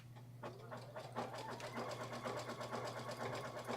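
A sewing machine stitches a table runner with a zigzag tack-down stitch, its needle running in a fast, steady mechanical chatter over a low motor hum, close and fairly quiet, with no talking.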